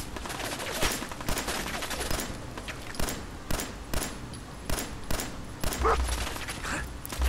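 Gunfire in Fallout 4: a sustained run of sharp, repeated shots cracking at irregular intervals, moderately loud over a low background rumble, with no talk.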